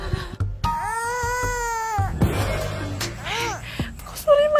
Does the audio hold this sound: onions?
no